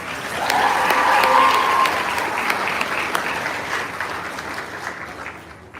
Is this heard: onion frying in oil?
no